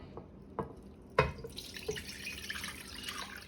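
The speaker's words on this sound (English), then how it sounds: "I'm using the water that it was soaking in" Sea moss soaking water being poured for a smoothie, with a few soft drips and splashes, then a brief louder splash and a thin, steady trickle of liquid close by.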